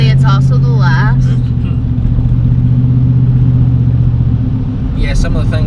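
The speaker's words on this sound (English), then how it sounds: "first car of the evening" A single car passes on a rural road at night, its engine a steady low rumble that swells and fades with mid-range whoosh, heard alone and fairly loud throughout.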